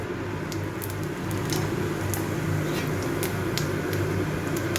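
A small pinch of white cumin seeds fries in hot oil in a wok, giving a steady, close, dense sizzle that runs evenly throughout.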